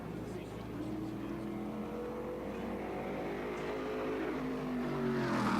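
Race cars run on an oval racetrack at a Friday night event, with a steady engine drone that slowly swells louder as a car draws closer. A track announcer talks over it throughout.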